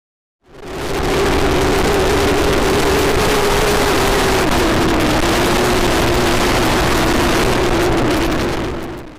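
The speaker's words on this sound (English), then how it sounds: "the obvious loud audio of the wind rushing past your camera" Wind roaring past a Thinkware M1 dashcam mounted on a moving motorcycle, a loud continuous rushing buffet with a faint steady engine hum underneath, constant for several seconds.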